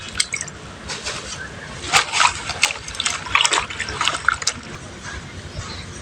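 Water pours into a bowl to soak pumpkin leaves in salt water, a close, moderately loud splashing gush in several uneven bursts over faint background noise.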